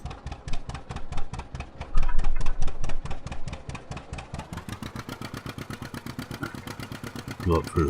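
An old tractor engine runs steadily, its loud, rapid pulsing firing beat holding close throughout, picking up a little toward the end with a brief clatter.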